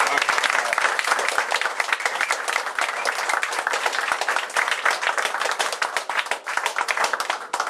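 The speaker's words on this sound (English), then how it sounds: "how about a nice round of applause for these fine young men?" An audience at a Boy Scout Troop 104 Eagle Scout ceremony breaks into loud, sustained clapping for the new Eagle Scouts, dense and continuous from start to finish.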